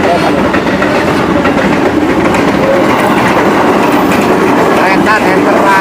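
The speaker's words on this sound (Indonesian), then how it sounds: "Waduh, ada kereta nih." A train passes close by, a loud, continuous rumble with rhythmic clickety-clack of rail cars that fills the whole moment and drowns out other sound.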